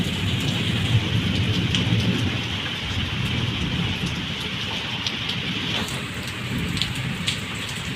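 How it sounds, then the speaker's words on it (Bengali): Steady heavy rain pours down continuously at night, with a low rumble of thunder underneath and scattered drops pattering nearby; no voices. "এই রাত্রেবেলা এখন বৃষ্টি হচ্ছে"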